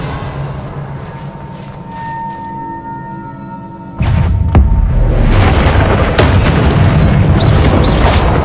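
A Revelio spell is cast in Hogwarts Legacy: a low rumbling ambience suddenly erupts at about four seconds into a loud, deep boom-like surge that sustains with shimmering bursts.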